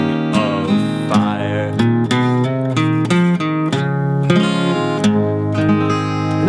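Acoustic guitar strums out the closing chords of a song, a steady run of bright, full strokes ringing close and loud with no voice over them.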